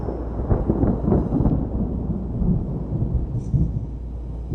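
Deep rolling thunder from a thunderstorm rumbles continuously, a heavy low roar swelling and fading with no voices present.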